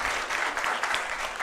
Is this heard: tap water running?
no